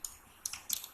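Computer keyboard keys are pressed for a shift plus enter command, a few sharp close clicks in quick succession.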